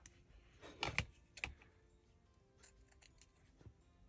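A folded paper tag being trimmed with scissors, two close, crisp snips in quick succession followed by faint rustling and a soft click.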